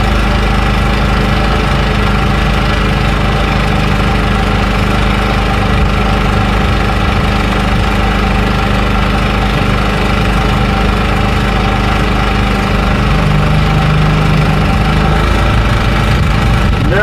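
A PowerSmart 2500 watt portable generator runs steadily after a choke start, its small engine holding a loud, continuous drone with a low knocking hum and vibration throughout, no talking over it.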